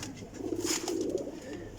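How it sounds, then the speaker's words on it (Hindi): Soft, low cooing of golden pigeons close by, a brief murmuring call under faint background noise. "ए देखो जी कबूतर गोल्डन कबूतर है"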